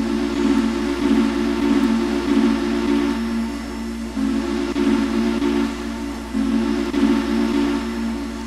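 A steam locomotive's secondary whistle in the Trainz railway simulator, sounding as repeated loud, sustained low-pitched blasts with brief gaps between them over a constant background hiss.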